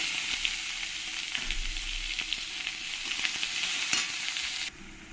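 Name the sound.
chopped onions frying in oil with spices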